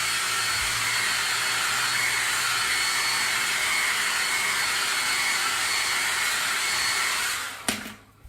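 A hair dryer blows on a craft project, a steady, fairly loud whirring hiss that runs for about seven seconds before it clicks off and fades out.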